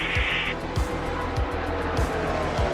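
NASCAR stock cars race at Michigan, several loud engine roars sweeping past in quick succession with repeated Doppler drops, a steady racing drone under them and a brief high whine early on.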